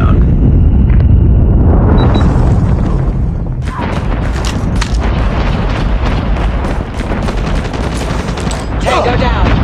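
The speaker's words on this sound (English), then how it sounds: "Predator missile inbound." A Predator missile strike in Call of Duty Mobile lands with a loud boom, followed by a dense burst of explosions and rapid gunfire crackling through a multiplayer match, with faint game voice callouts.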